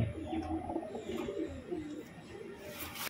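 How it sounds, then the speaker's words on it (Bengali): A pair of Teddy and Rampuri crossbred pigeons coo in soft, repeated rolling phrases close by, with a faint higher chirp near the end. "এক জোড়া টেডি এবং রামপুরি ক্রসবিট পায়রা আছে"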